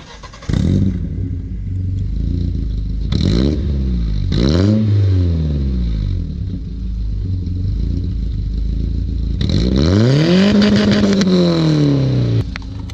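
A BMW E30 engine revs hard several times in quick bursts, then climbs into a long, loud rev before dropping back, close and throaty.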